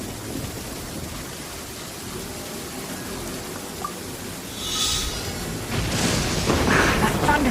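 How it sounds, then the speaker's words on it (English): Rain and rolling thunder in Genshin Impact, a steady hiss of rainfall with low rumbles that swell into louder thunder crashes toward the end. "That thunder's so loud."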